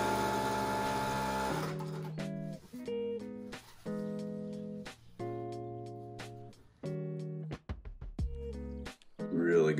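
A Juki DDL 8000A industrial sewing machine runs stitches through fabric, with sustained whirring runs broken by short pauses and shifts in pitch, loud and close.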